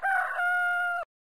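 A single rooster crows loudly and close, one full cock-a-doodle-doo with a rising start and a long held, strained final note, then silence.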